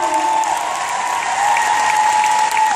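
An audience at a Beachbody Summit PiYo workout event applauds loudly as the workout crew comes out, with steady, dense clapping and a faint crowd murmur beneath it.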